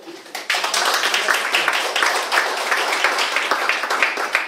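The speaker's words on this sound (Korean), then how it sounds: "우리 수아신 교수님께 박수로" A roomful of people at an academic lecture session bursts into steady applause, dense overlapping claps sustained for several seconds.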